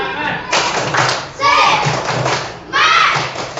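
A class of schoolchildren performs a rhythmic spirit clap in a classroom, loud bursts of clapping and thumping in patterned groups, mixed with the children's chanting voices.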